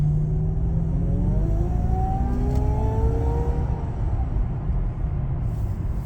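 A TOM'S supercharged V8 Toyota Celsior accelerating hard, its engine note climbing in a smooth rising whine through the revs with a deep rumbling bed beneath, heard from inside the car with no voices.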